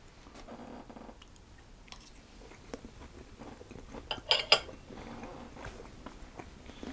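Bites and chewing of a slice of homemade quiche Lorraine with egg and cheese filling, soft crunchy mouth sounds close up, with a few louder bites near the middle and no talking.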